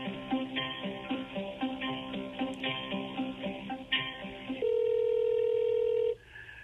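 A run of short telephone keypad beeps at an irregular pace plays over faint hold music, followed by a longer steady tone before it cuts off.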